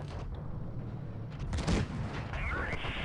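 Tank cannon fire in the mobile game WOT Blitz during a Type 58 Chinese medium tank battle, a muffled boom with rumbling impact midway over steady engine drone, followed by a rising whine.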